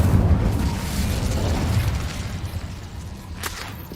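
An Incendio fire spell from the Hogwarts Legacy video game bursts out as a loud, close whooshing roar of flame with a heavy low rumble that fades over several seconds, ending with a couple of faint crackling pops.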